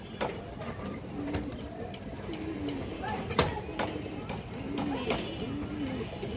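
Pigeons coo repeatedly at a busy pigeon market, soft rolling calls over constant crowd murmur and scattered clacks and knocks.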